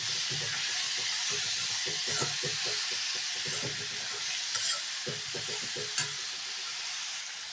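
Bottle gourd sautéing in a pan for a chutney, producing a steady, hissing sizzle under repeated close stirring scrapes and a few sharper clinks, with no one speaking.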